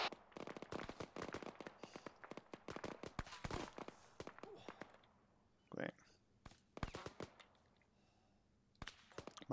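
Gunfire in the military video game Arma 3 comes as rapid bursts of sharp shots and cracks, some close and loud, others fainter, with gaps between volleys and a brief voice sound midway.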